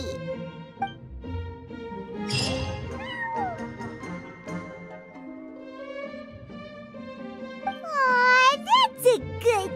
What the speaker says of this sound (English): Paimon knows you're a sweet, happy little cat.